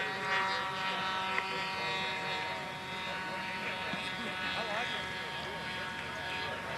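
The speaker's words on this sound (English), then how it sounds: "This plane's flying very strong." A propeller-driven model airplane, a large load-carrying SAE Aero Design competition plane, drones steadily in flight at an outdoor event while a commentator talks over it.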